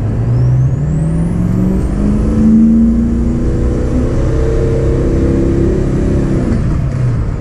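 A 6.0 Powerstroke turbo diesel pickup truck with an upgraded turbo accelerates close by, its low drone climbing steadily in pitch through the gears, with a faint turbo whistle above.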